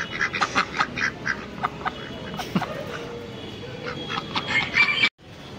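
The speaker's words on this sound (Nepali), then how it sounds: "यस्तो छ यहाँ हाँसहरू पनि रहेछ दुईवटा तिनवटा हाँस रहेछ यहाँनिर" Two or three ducks quack close by in a run of quick, rasping bursts that repeat over steady outdoor background noise, with no talking.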